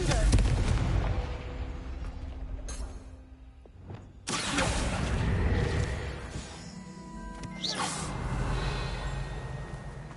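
Confringo fire-blast spell explosions in Hogwarts Legacy, loud booming bursts with crackling tails that come in several waves over rumbling game ambience, while a voice speaks briefly.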